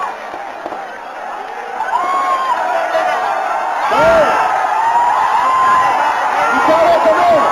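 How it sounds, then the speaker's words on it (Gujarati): A large crowd at a victory celebration bursts into loud, sustained applause mixed with cheers and whoops, close and continuous for several seconds, with a voice carrying over it. "એક જોરથી તાળીઓ પડવી જોઈએ."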